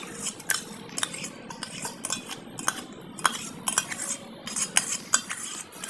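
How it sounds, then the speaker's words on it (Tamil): A spoon stirs custard powder into boiling milk in a pan. Close, repeated metallic clinks and scrapes against the pan come in an uneven rhythm, with no voices. "கஸ்டர்ட் மாவை எடுத்து பாலில் போட்டு நல்லா கிண்டிகிட்டே இருக்கணும்"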